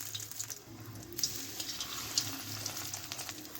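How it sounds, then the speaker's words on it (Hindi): Chicken cubes frying in oil over a low flame, a steady soft sizzle and bubbling that runs continuously, close and fairly quiet, with no talking. "अब हम इसमें ये चिकन क्यूब्स डाल देंगे।"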